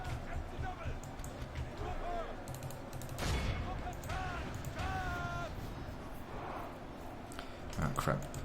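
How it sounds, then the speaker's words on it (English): Troops exchange gunfire in a Total War battle, a crackle of musketry and mechanical clatter running steadily through the scene while someone talks over it, with distant shouts rising between volleys. "These guys here are shooting."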